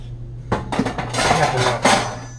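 Cooking pots and metal lids clank and clatter as they are handled in a home kitchen, a series of close, loud metallic knocks and rattles over a low steady hum, with no voices.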